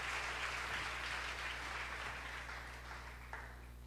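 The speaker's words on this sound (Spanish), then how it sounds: "¿Cuánto le dan un aplauso al Rey de Reyes, mi hermano?" Hissy, diffuse applause from a church congregation, fairly distant and steady, slowly fading over a few seconds above a low electrical hum.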